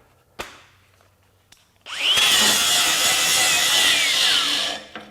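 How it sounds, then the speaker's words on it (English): A DeWalt FlexVolt DCG416 angle grinder on a 6Ah battery bevels steel, starting after a couple of clicks and then holding a loud, continuous high grinding whine for about three seconds before winding down. "I can bog that pretty easily with the 6 amp hour battery if I really dig in there."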